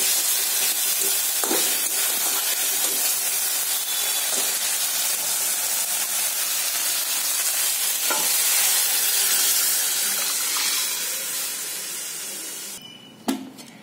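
Cumin seeds tempered in a little oil with a ginger, cumin and tomato spice paste frying in a pan make a steady, close sizzle, with occasional stirring knocks and one sharp clatter near the end as it quiets.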